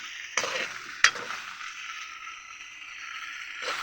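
Food being stirred in a pan while cooking outdoors on a mountain, a steady close sizzle with a sharp utensil knock and scraping at the start.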